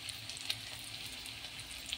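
A quiet, even sizzle of onions and chillies frying in oil, with faint pops, soft and steady throughout.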